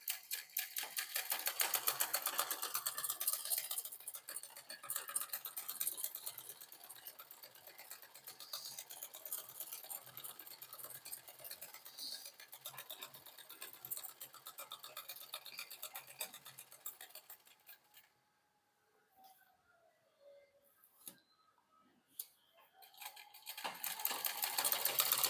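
A sewing machine stitches folded cloth in a fast, even run of mechanical ticks, steady for most of the stretch before stopping into near silence, then starting again briefly at the end.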